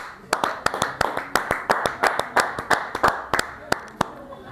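A studio audience on a television set claps to welcome a Christian singer. The hand claps are sharp and distinct in a fairly steady rhythm, loud and close, with faint voices underneath.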